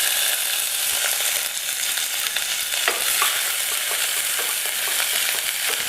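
Shallots and curry leaves sizzle in hot oil with mustard seeds in a pan, a continuous loud frying hiss with occasional stirring scrapes and crackles.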